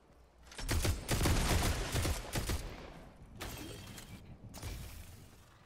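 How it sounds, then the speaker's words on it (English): Rapid gunfire in Fortnite used to shoot down a tree, loud bursts of shots with cracking, splintering impacts, tapering into a quieter pause and then a final burst. "Get behind and just shoot the tree down."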